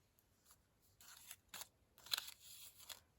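Scissors cut a corner off a craft paper template: a few crisp, close snips and paper rustles in quick succession in a quiet room.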